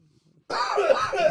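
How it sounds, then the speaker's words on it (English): A lingering cough from a recent illness, a single harsh, loud, close burst lasting about a second after near silence, indoors on a podcast set. "I still have the cough won't leave me."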